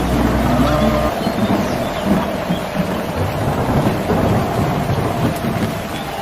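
Thunder rumbles with steady rain in a rural field setting, a broad continuous wash of rainfall and low rolling thunder filling the whole clip at close range.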